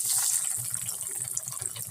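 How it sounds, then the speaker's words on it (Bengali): Four cauliflower chops drop into hot white oil in a wok, giving a steady crackling sizzle with soft bubbling underneath, close and fairly quiet. "আমি 4টে চপ এই তেলের মধ্যে ছেড়ে দিচ্ছি।"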